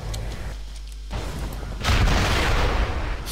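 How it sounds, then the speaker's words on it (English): A rocket launcher fires in the online shooter game Global Agenda: a loud, broad booming blast erupts partway through and rolls on to the end, after a quieter stretch of game ambience. "I got rocket launcher, I just remembered."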